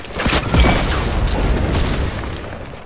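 Rocket launcher blasts in Fortnite Chapter 2 Season 2, a loud booming explosion with a rumbling tail and scattered pops, close and dense, no voices over it.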